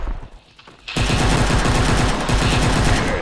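Sustained automatic fire from an AK5 rifle in the first-person shooter Maskgun, starting abruptly after a quiet moment and rattling on loud and close in a dense, rapid stream of shots.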